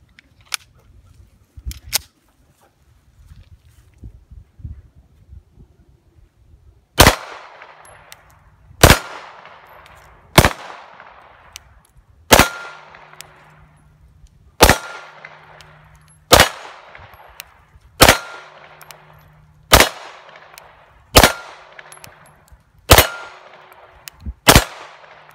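Single shots from a KRISS Sphinx SDP Compact pistol with an enhanced trigger kit ring out one at a time, about ten sharp loud reports at a steady pace of roughly one every two seconds, each followed by a short ringing tail.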